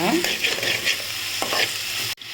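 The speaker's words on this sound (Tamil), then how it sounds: "முருங்கை இலை அதை நம்ம இதில் சேர்த்துக்கலாம் சேர்த்து அதையும் நல்லா சுருளாக வதக்கிக்கோங்க" Drumstick leaves sautéed in a pan, stirred with a steady sizzling hiss and a few scraping strokes of a spoon, continuous and close until an abrupt cut near the end.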